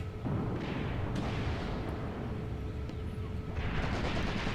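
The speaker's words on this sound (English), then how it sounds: "Just throw a grenade." A grenade blast in the World War II tactics game Graviteam Tactics rolls out as a dense, sustained low rumble of battle noise, with scattered faint cracks of gunfire on top and no clear single sharp bang.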